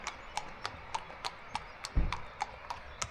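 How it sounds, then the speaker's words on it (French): Horse hooves clip-clop on concrete near a beach cove, with steady rhythmic strikes about every half second and one heavier thud where the horse slips, close and fairly loud. "Oh, le cheval il a glissé."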